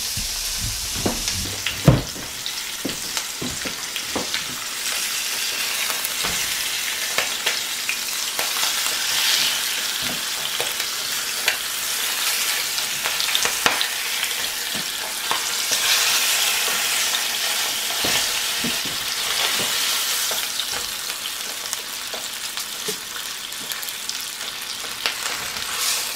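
Turkey thigh skin sears in a skillet with a loud, sustained sizzle and crackle, punctuated by sharp spits and pops, especially early on, with no voices.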